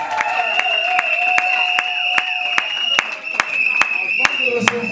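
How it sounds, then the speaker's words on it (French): Guests at a civil wedding ceremony clap for the newly married couple, crisp rhythmic claps repeating at a steady pace over sustained tonal voices or singing, close and moderately loud throughout. "Nous vous demandons d'applaudir le couple."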